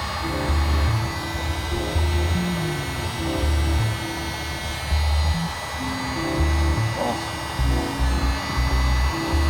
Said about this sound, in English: We've got the heat gun out now.